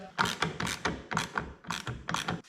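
A side mirror mount on a UTV is tightened with a tool that clicks in steady, repeated ratcheting strokes, each a burst of mechanical clicks, close and even in rhythm with no voices.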